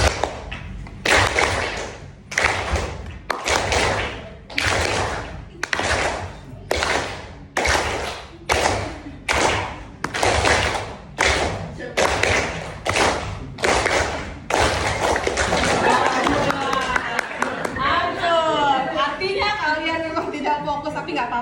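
A classroom group claps hands in a steady rhythm, about fourteen sharp, loud claps evenly spaced, followed by a denser, continuous burst of clapping mixed with voices.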